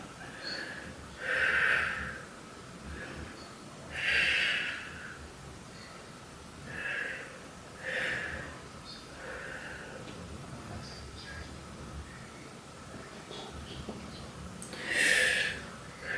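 Slow, deep breaths during a side-kneeling Pilates stretch, four or five soft breathy swells spaced a few seconds apart, close and fairly quiet with no talking.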